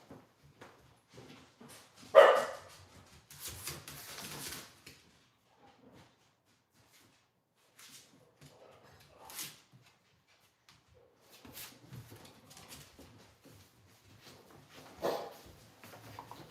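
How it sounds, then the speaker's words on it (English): A dog barks indoors in short, scattered bursts. One sharp loud bark opens the run, then a cluster of barks and yips follows, and fainter bursts come after long quiet gaps. "Shut up, dog."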